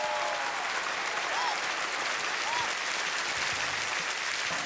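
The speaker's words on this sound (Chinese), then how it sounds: "好好来来来点掌声" Studio audience applauding after an errenzhuan folk opera performance, a dense even clapping sustained at moderate loudness throughout.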